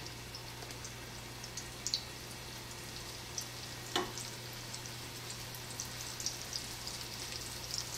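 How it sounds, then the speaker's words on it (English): Steady, close sizzling of meatballs frying in a pan, about six or seven at a time, a continuous crackle dotted with small pops, over a low constant hum. "Them sizzle like that for a little while."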